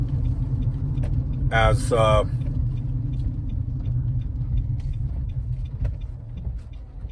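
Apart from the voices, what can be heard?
car driving along a road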